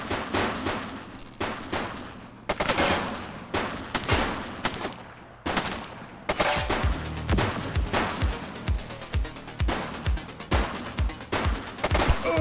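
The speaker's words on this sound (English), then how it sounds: "She's shooting!" A woman fires a gun repeatedly. Loud, sharp shots crack in irregular bursts, then tighten into a rapid, steady volley toward the end.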